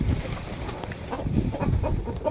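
Rhode Island chickens clucking softly in a coop, a few short irregular clucks and murmurs close by over low rustling, fairly quiet with no talk.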